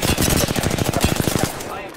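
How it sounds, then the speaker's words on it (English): Rapid automatic gunfire from the Overwatch video game rattles out in a loud, close burst of evenly spaced shots lasting over a second, then stops abruptly. "Opening fire."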